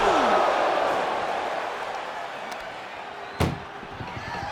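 An ambulance's back door slams shut in WWE 2K25 at a Bash in Berlin match: one loud, sharp, close bang late in the clip, rising out of a steady roar of arena crowd noise that slowly fades.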